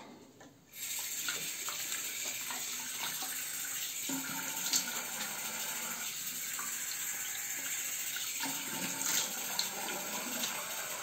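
Tap water runs steadily into a sink to rinse a Merkur Progress safety razor, a continuous close splashing stream with faint clinks of the razor against the basin, no voices.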